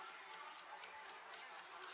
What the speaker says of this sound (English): I can hear my clock on my wall